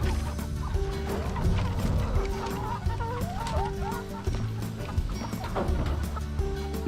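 A flock of farm chickens clucks busily while trailing a farmer in rural Sweden, with overlapping close clucks and warbling calls over steady outdoor background noise.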